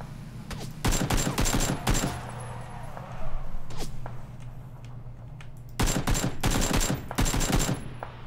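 Rapid automatic gunfire in a shooter video game match comes in two long, loud bursts near the start and end, with a few scattered single shots and quieter stretches between.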